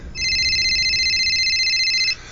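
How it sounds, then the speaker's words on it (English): A cell phone rings with a steady electronic tone, loud and continuous for about two seconds, then cuts off abruptly, leaving low background noise. "my cell phone rang."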